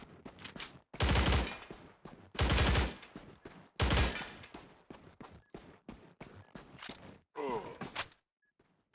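M4A1 rifle firing in the game STALCRAFT: X, three loud sustained automatic bursts about a second each, separated by short pauses, followed by a quieter fourth burst and faint game ambience.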